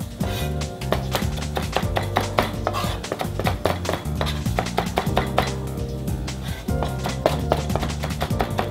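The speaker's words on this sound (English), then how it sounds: "And I'll just chop up some parsley" Continental parsley is chopped with a knife on a board, a fast steady run of crisp taps repeating for several seconds over a background of music.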